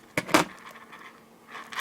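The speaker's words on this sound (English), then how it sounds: "I will take the scissors and cut." Scissors snip through jewelry cord close up, with two quick crisp cuts in succession followed by faint handling noise.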